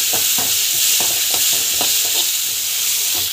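Onions and tomato with turmeric sauté in a pan, a loud constant hissing sizzle with rhythmic scraping stirs of a spatula every half second or so.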